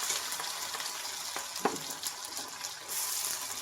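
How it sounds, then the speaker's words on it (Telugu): Onion paste and curry leaves fry in a pan with a soft, steady sizzle and hiss, broken by a few light stirring knocks, fairly quiet and alone. "బాగా వేగనివ్వాలి."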